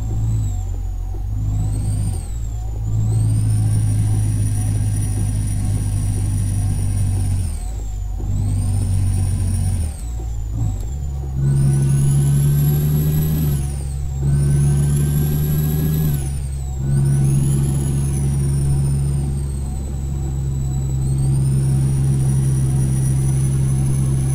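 A Kenworth K100 truck engine in Euro Truck Simulator 2 drones steadily and loudly while a high turbo whistle rises and falls. The revs climb, cut off and climb again over several gear changes, with no talking.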